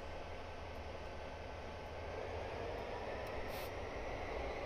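A freight train passes by on the Cajon Pass line in a train simulator game, giving a steady, continuous rolling rumble and rail noise with a faint high squeal near the end.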